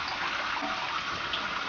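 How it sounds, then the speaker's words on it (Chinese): Halved chili peppers rinsed in clean water in a kitchen, a steady close rush of running, splashing water with no talk. "用点清水再投一遍，把水分给它拧干"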